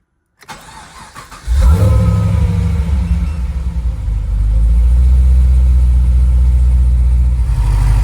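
A Holden VF 6.0/6.3 LS V8 cranks briefly, catches and settles into a loud, steady, close idle with a deep rumble that swells slightly partway through.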